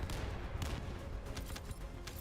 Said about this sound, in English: There are explosions everywhere.